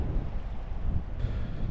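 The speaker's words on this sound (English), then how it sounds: "I don't know if you can hear the wind." Strong wind gusts buffet a microphone fitted with a windsock beside a creek hut near Townsville, a loud, rumbling, uneven roar that fills the short stretch without any voices.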